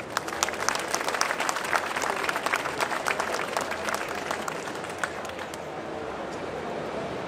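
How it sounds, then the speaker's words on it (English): A large audience at The Photography Show at the NEC in Birmingham applauds steadily for a wildlife photographer, dense continuous clapping that holds for several seconds and then thins slightly toward the end. "Can I have a big round of applause"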